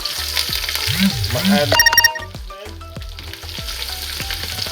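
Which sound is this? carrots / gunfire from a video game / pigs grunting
carrots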